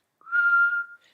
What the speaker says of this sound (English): all that turbulence creates that high-pitched sound. So I imagine whistling goes the same way